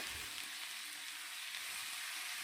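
Onion and tomato sauté in a pan for mutton curry with a soft, steady, even sizzle that holds throughout, with no voices.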